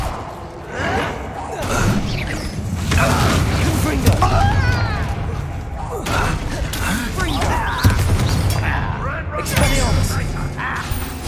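Incendio fire spell cast in Hogwarts Legacy, a roaring burst of flame amid dense, loud combat clatter, booms and crackling effects running throughout, with voices heard over the action.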